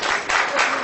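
A brief burst of audience applause, a dense wash of clapping that lasts under a second.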